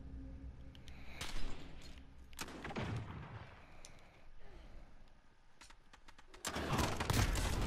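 Gunfire in the video game Call of Duty Modern Warfare comes in several sharp, loud bursts of shots separated by short lulls, with a dense barrage near the end.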